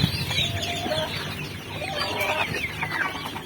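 Chickens cluck steadily from a flock of hundreds of birds, a busy overlapping chatter of short calls at moderate volume with no talking.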